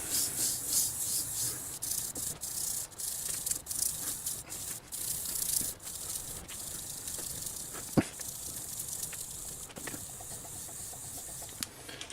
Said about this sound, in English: I've got 1500 grit back on here and just finishing this thing up.